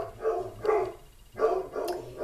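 Big dogs bark in several short, strong bursts with brief pauses between them, fairly close and loud, with no talking over them.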